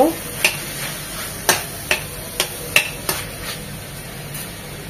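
Dried fish and Malabar spinach frying in a pan, a steady sizzle broken by sharp, regular clicks and scrapes of a spatula stirring against the metal, close and fairly loud with no talk.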